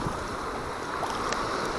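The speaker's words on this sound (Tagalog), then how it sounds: "Grabe talaga yung hangin tsaka yung alon." Strong wind and waves at sea heard from a small fishing boat, a rough roar of wind buffeting the microphone over washing water, with no talking.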